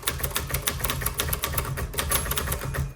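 Rapid typing on a 1955 Olivetti Lettera 22 manual typewriter, a dense run of crisp mechanical key strikes at an even, quick rhythm, close and clear with no talking.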